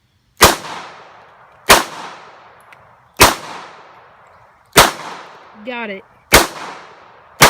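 Five sharp Tokarev Norinco 213 pistol shots fired at Gatorade jugs outdoors, spaced roughly a second and a half apart, each a loud crack with a brief decaying ring; a short spoken remark falls between the fourth and fifth shots.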